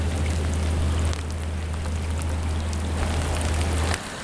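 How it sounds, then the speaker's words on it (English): Steady drizzling rain patters on a wet grey Sunday morning beside the River Thames near Woolwich, a constant close hiss with a low rumbling undertone and no talking. "I'm standing here on a very, very wet, drizzly, grey Sunday morning"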